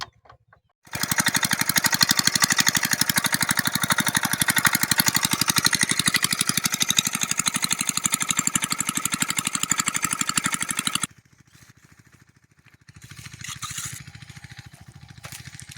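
A Montu irrigation pump engine in an onion field starts up and runs loud and steady with a fast, even chugging pulse for about ten seconds, then cuts out abruptly, leaving faint lower rumbling.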